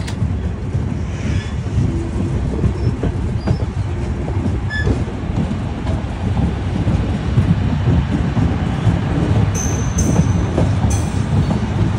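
The Ruposhi Bangla Express runs toward the Padma bridge, heard from on board as a loud steady rumble with rhythmic wheel clatter and occasional faint squeals, continuous throughout with no talking.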